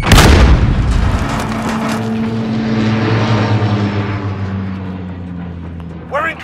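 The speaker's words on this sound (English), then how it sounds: "Grenade out!" A grenade blast in Call of Duty: Modern Warfare bursts loud and close at the start, then rolls into a long low rumble under a droning aircraft-like engine that fades out.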